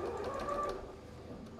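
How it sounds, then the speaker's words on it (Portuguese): A sewing machine runs steadily, stitching a new seam on a small doll's coat, a continuous close mechanical whir with no voices over it. "Vai passar uma nova costura no local."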